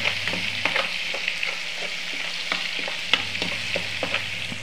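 Spice masala fries with a steady crackling sizzle for a ridge gourd curry, and a spoon scrapes and stirs the pan in repeated short strokes. There is no talking.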